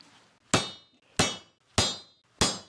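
A hammer strikes a bushing installation tool on the crossmember of a 1978 Silver Anniversary Corvette, four loud, sharp metallic blows at an even, unhurried pace with ringing decay, alone with no voices.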